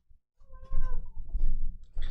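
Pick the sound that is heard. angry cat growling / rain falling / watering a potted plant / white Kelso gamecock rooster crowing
angry cat growling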